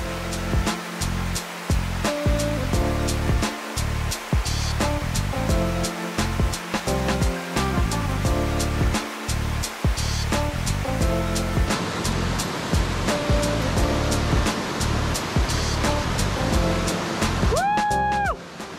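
Hot blue volcanic river water at Grutas Tolantongo, Mexico, rushing steadily as a loud, continuous wash of flowing water close by, with no talk over it.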